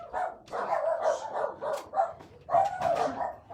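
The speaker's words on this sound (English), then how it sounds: "Dogs are going nuts." Several dogs bark and yip repeatedly indoors, in loud, excited bursts with short pauses between them and no talking over them.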